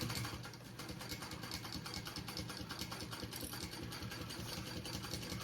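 A sewing machine bastes the layers of a bag with a fast, even mechanical clatter of the needle, faint and steady throughout with no pauses.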